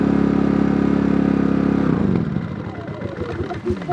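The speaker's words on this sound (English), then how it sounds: "You can hear this generator really work." Portable generator powering an RV, a loud steady engine drone that labours and then cuts out as the unit dies under the air-conditioner load, leaving rattling and clatter.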